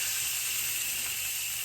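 Salmon fillet searing flesh side down in olive oil in a frying pan over medium-high heat, giving a steady, even, fairly quiet hiss with no talking.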